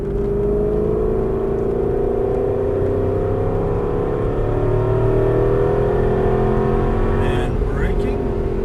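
Aston Martin V8 Vantage engine pulling hard on throttle, a steady loud drone with rising harmonics held throughout, with a brief burst of higher noise near the end; a voice talks over it.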